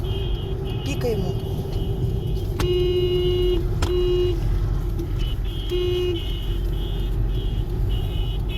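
Cars stuck in a blizzard traffic jam on the Barnaul–Novoaltaysk road honk in repeated short and longer toots over a steady engine rumble, heard from inside a vehicle with people talking nearby.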